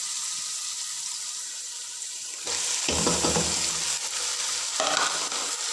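Tomato fries in a pan with spices and ginger-garlic paste, a low sizzle that swells louder partway through as the food is stirred, with bursts of scraping and crackle close by and no talk.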